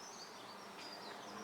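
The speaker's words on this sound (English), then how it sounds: "A few bees on there, nothing of any note." Honeybees during an early-season beehive inspection: a steady, close swarm buzz with shifting whining tones from individual bees passing near, and no voices.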